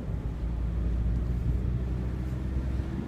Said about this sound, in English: the Miata is just a blast to drive. This one has the manual gearbox, which makes it even more fun